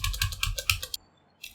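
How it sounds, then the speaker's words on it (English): Quick burst of keystrokes on a computer keyboard typing a website name, close and crisp clicks in a rapid run, a pause, then one more tap. "the only thing left now is to type our website name"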